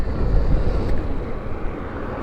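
A 2023 Zero FX electric dual-sport motorcycle pulling hard under acceleration, heard as a loud, rushing low roar mixed with wind buffeting against the microphone, with no engine note and no speech.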